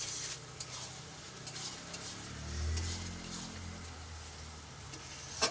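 Onions sauté in a pan with a splash of water, giving a soft, steady sizzle broken by scraping stirs and occasional light clinks of a utensil, with no talk.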